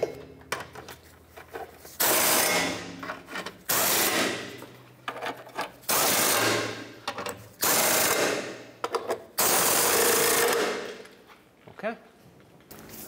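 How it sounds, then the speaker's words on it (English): A wrench tightens the catalytic converter nuts on a 2013-2019 Ford Escape, heard as close metallic ratcheting in several separate bursts with short pauses between them. "Go ahead and tighten all of those."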